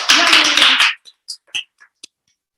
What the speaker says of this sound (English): Big applause for Johnny Rare.